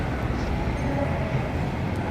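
Steady rumbling commuter train noise with a low, continuous roar and rattle, heard from close by with no talking.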